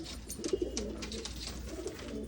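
Pigeons offered for sale coo in low, rolling repeated phrases, fairly close and steady with no talk over them.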